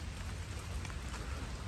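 Rain falling in a cold, wet garden among canna plants, a soft continuous patter of drops on leaves and surfaces, faint and even throughout.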